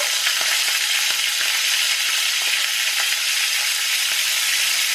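Prawns fry in hot oil in a pan for a home-cooked prawn curry, with a dense, even sizzle and small crackling pops that continue steadily, close up and with no talking.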